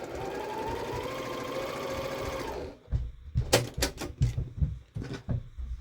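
A sewing machine runs steadily for a couple of seconds, stitching a small quilt block seam, then stops, followed by several sharp handling clicks and thumps.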